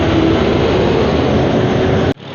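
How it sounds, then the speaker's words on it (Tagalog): A JAC Liner bus rolls past up close with a loud, steady broadband roar and a faint tonal whine, holding level for about two seconds before cutting off abruptly into quieter background noise. "Alright, LLI bus 1806, Kuya Napoleon Esternon."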